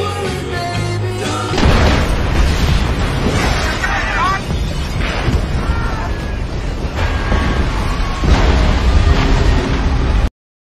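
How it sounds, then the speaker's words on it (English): A ferry packed with sailors explodes in New Orleans in the 2006 film Deja Vu. After a brief quieter opening, a loud, sustained roaring blast and rumble takes over, with voices and musical tones layered over the din. "It is ginormous explosion."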